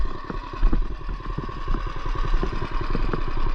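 Small mini bike engine running, a loud, close, rapid popping chug with a rough, uneven clatter throughout.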